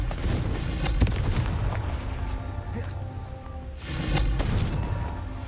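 The Confringo fire spell in the Hogwarts Legacy video game explodes with a loud booming blast near the start, followed by rumbling crackle and a second swelling burst toward the end.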